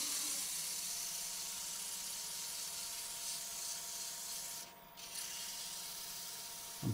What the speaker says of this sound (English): I got a pretty clean cut, so I think it's close enough to sand with 240.